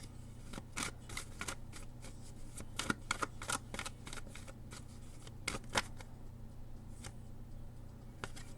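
Tarot cards shuffled by hand in a quiet room, a run of crisp riffling and slapping bursts with a few cards flicking loose, near and fairly soft over a low steady hum.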